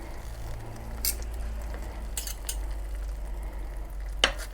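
Cooked crockpot chicken being shredded into big chunks, giving soft scraping and stirring sounds with a few brighter utensil clicks over a steady low background hum; no talking.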